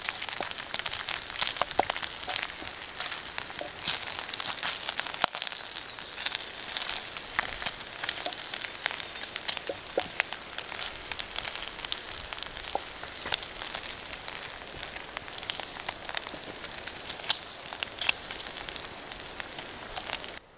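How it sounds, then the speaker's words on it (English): Rain patters steadily on a tent, a dense, even hiss with scattered sharper drop taps, continuous and fairly close throughout. "Oh my god, it's raining. We have rain."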